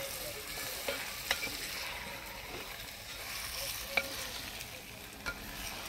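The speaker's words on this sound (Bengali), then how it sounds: "মাংসটা ভালো করে নাড়াচাড়া করে নিলাম" Meat stirred as it fries in a pot gives a faint, steady sizzle, with a few sharp clicks and scrapes of the spoon scattered through, no speech.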